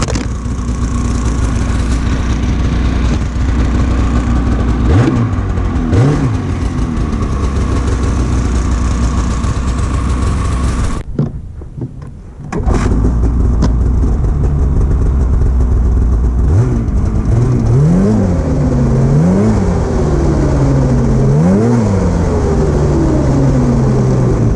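Stock-exhaust 2019 Polaris Assault 850 snowmobile engine on a warm startup, a loud steady idle with low rumble, briefly cutting out midway, then restarting and blipping the throttle in repeated rising and falling revs.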